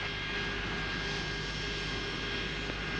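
Airliner engines on a 1973 flight to London roar steadily during takeoff, a loud, constant broadband drone that holds unchanged throughout with no voices.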